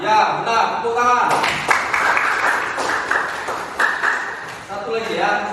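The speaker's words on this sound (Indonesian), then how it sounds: "Tepuk tangan." A classroom of students applauds briefly after a correct answer in a long jump lesson, a burst of mixed clapping that rises and fades while a teacher talks over it.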